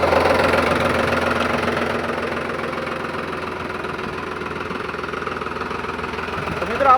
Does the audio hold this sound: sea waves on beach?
no